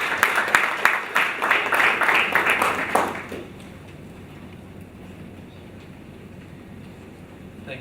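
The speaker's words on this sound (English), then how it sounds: "Can we kindly ask that we give him a round of applause?" Applause for a speaker at the opening day of an African school on decentralisation, a dense rapid clapping from an audience in a hall that fades out after about three seconds, leaving quiet room tone.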